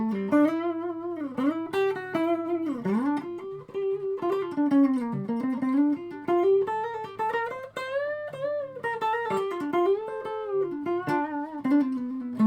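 Johnny Brook 335 electric guitar played clean through an amp, comparing bridge and neck pickups: a melodic single-note line with bends and sustained notes, played alone and up close.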